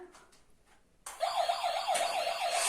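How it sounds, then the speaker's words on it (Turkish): A toy ambulance siren switches on abruptly partway through, a loud warbling electronic wail that rises and falls repeatedly after a quiet, faint start. "Aç ambulansını."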